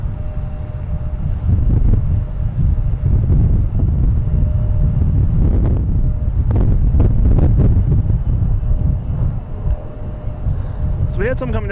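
Steady wind buffeting the microphone outdoors at Boston Logan Airport, a continuous loud low rumble lasting throughout, with people talking over it.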